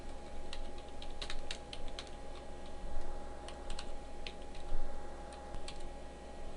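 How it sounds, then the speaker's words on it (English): Rapid, irregular clicking of fingers typing on a computer keyboard, close and crisp, with uneven bursts of keystrokes and no talking. "And now I can type the path and the file name."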